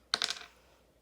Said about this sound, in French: on va commencer par ouvrir le colorant